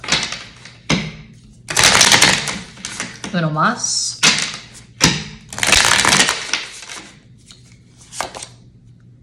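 Repeated bursts of stiff tarot cards being shuffled hard, riffling and slapping in several rounds, with a person talking briefly between them.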